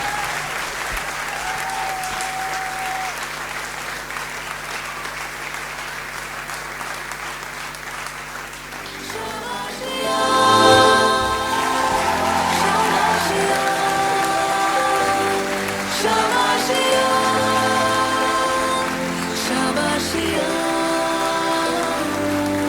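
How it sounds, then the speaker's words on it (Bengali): An award ceremony audience applauds steadily for a motivational speaker, and the clapping swells into a louder, denser burst partway through with music-like tones mixed in. "একবার জোরে হাততালি হয়ে যাক মিস্টার সুজয় নীল বন্দ্যোপাধ্যায়"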